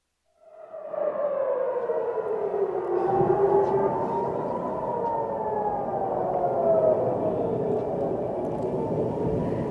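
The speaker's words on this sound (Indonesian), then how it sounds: "Sirine peringatan berbunyi" A loud air raid warning siren in Israel rises and then holds a long, sustained droning tone, steady and continuous with no voices.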